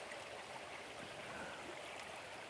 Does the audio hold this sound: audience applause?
no